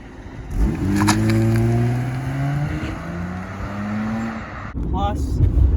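A car engine revs and drives, rising in pitch as it accelerates and then holding a sustained drone, with voices talking over it.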